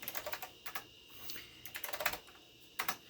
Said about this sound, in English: I'm using my Northgate OmniKey 102 keyboard